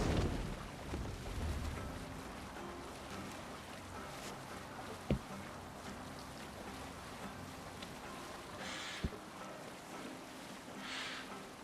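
A boat sails out on open water in Assassin's Creed Valhalla, with a steady wash of waves and wind, plus a couple of sharp knocks from the hull or gear, and no talk.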